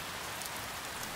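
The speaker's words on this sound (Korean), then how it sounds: "얼마 후 큰 비가 오자" Heavy rain pours down steadily as a story sound effect, a dense, even hiss of falling water, faint and unbroken with no voices.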